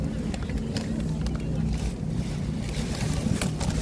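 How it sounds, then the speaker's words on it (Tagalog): Strong gusty wind at Han River Park during a birthday camp outing buffets the microphone in a steady roaring rush that stays loud and constant throughout. "Sobrang mahangin. Ang hirap mag-video"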